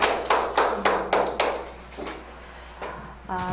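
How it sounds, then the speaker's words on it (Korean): A church audience claps in a series of loud, rhythmic bursts, several sharp rounds of hands striking together in quick succession before fading into quieter room sound. "박수! 박수! 박수!"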